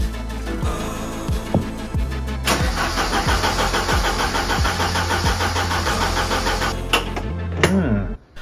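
A long-abandoned Ford Sierra Sapphire RS Cosworth cranks in rhythmic starter pulses for a couple of seconds, then catches and runs loudly and roughly close by before cutting out.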